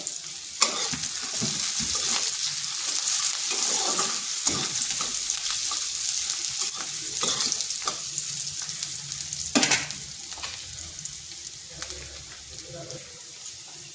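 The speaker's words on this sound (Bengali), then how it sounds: "পেঁয়াজটা হালকা একটু ভেজে নিচ্ছি। এরপর এখানে দিচ্ছি লং, দু টুকরো এলাচ আর দুটো দারচিনি।" Onion sizzles and fries steadily in hot oil with cloves, cardamom and cinnamon added, a continuous hiss punctuated by occasional stirring scrapes and a few louder clatters.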